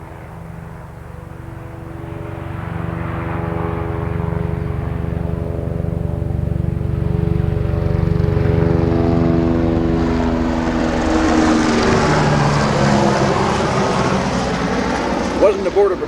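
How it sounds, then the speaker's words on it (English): A government helicopter passes overhead, its droning engine and rotor noise building steadily and staying loud and continuous throughout, with a deep harmonic hum that shifts in pitch as it moves. "Wasn't a Border Patrol chopper, but it had a government seal on it of some kind."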